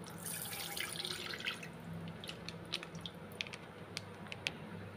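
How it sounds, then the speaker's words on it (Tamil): Half a litre of milk pours into a pan for an agar-agar sweet, a steady close wash of liquid with small splashes and drips scattered through it. "ஃபர்ஸ்ட் ஹாஃப் லிட்டர் மில்கை வந்து ஆட் பண்ணி ஹீட் பண்ணிக்கலாம்."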